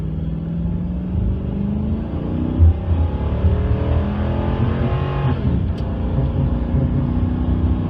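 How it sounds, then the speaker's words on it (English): A 2016 Dodge Ram pickup with a Hemi V8 pulls hard from a standstill toward 60 mph, engine drone rising steadily in pitch through a gear change, loud and close from inside the cab with no talk. "here, we'll do a pull from 0 to 60 and just see how slow it is"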